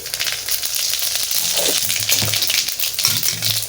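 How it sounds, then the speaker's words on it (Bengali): Panch phoron, a five-spice mix, fries in oil and gives a close, crackling sizzle broken by light stirring scrapes over a few seconds, with no voices. "পাঁচফোড়নটা ভালো করে ভাজা হয়ে গেছে"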